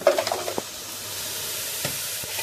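Spice masala with turmeric and salt cooking in a pan, a steady close hiss of frying with a few stirring knocks at the start.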